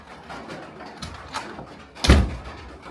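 A newly fitted door on an off-grid cabin swinging shut, with a brief soft bump midway and then a louder, close latching thud near the end over quiet room tone.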